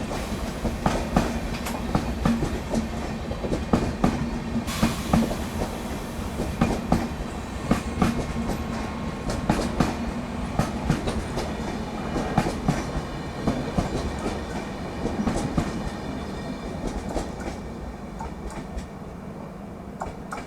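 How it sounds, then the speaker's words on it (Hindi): Thiruvananthapuram–LTT Netravati Express passenger train rolling steadily past at a station, with a continuous rumble and rhythmic clickety-clack of wheels over rail joints, close and loud throughout with no talking. "और यहाँ देखिए तिरुवनंतपुरम LTT नेत्रवती एक्सप्रेस।"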